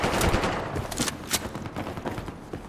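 FAMAS assault rifle fire in Battlefield 4, rapid bursts of close, loud gunshots with repeated sharp cracks over dense background battle noise.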